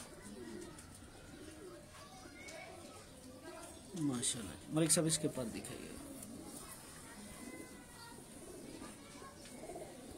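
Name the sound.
old Misse Jaaldar pigeons cooing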